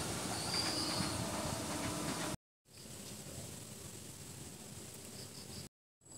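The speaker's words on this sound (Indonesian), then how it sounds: "Berangkat dari stasiun Citeras, KRL tujuan Tanah Abang." KRL commuter train on the Rangkasbitung line pulls out of Citeras station on straight double track, a loud steady rumble of wheels and cars with faint squealing and clickety-clack, briefly cut out twice.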